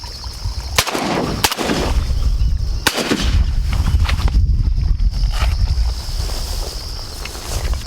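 Loud shotgun blasts during a teal duck hunt in Kansas public marsh: two sharp reports close together near the start, then a third a little later, each followed by a brief rumbling echo over steady wind and water noise.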